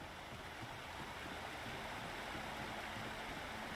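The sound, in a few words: river flowing in video game Alan Wake Remastered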